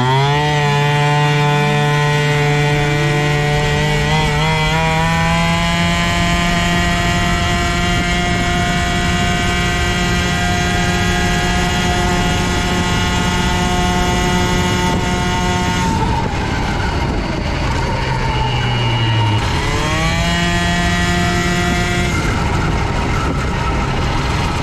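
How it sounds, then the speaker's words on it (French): A small stock Airsal CPI 70 two-stroke scooter engine fitted with a Carters Boost exhaust revs high and steadily, its whine climbing in pitch, then dipping briefly near the end before rising again, loud and close with no talk. "ça va pas mal ce petit moteur"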